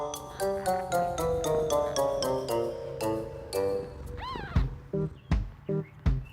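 A mother cat and her newborn kittens meow in a run of short, evenly spaced high cries, followed by a few louder, sharper mews near the end, close and with no talk.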